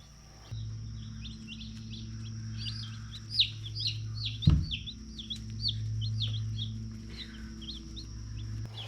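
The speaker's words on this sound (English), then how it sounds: "So this was an order of 25 Cornish cross meat birds from the Cackle hatchery" A brood of Cornish cross meat chicks cheeps and peeps in rapid, high repeated calls close by, over a constant low hum, with a sharp knock partway through.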